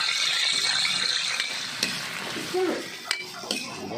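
Potatoes, carrots and chili sautéing in hot margarine in a pan for pork kaldereta give a steady close sizzle, broken by a few scraping stirs and clinks of a utensil near the end.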